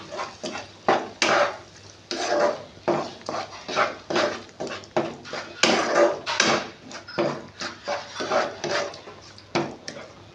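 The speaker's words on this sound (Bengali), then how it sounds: "এবার আমি এটা ভালো করে মিশিয়ে নিচ্ছি।" Ginger-garlic paste being stirred into egg curry masala, a rhythmic series of close scraping and knocking strokes from a spoon against the pan, steady and moderately loud, with no talk.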